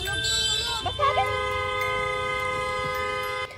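A car horn honks in long sustained blasts, trying to rouse a driver asleep at the wheel of a pickup, with shouting voices over it and steady traffic noise underneath.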